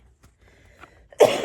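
A single sharp cough bursts out close and loud after a near-silent pause with faint breathing and small sounds before it.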